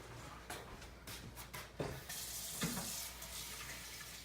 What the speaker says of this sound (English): So I'm gonna wash my hands real quick.